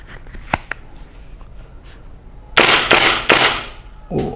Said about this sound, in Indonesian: Kita lihat performanya ketika kita nembakin single dulu.